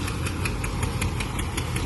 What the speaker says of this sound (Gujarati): આપણે બપોર પછી જમીને પાછું ચાલુ કરી દીધું ટ્રેક્ટર ને.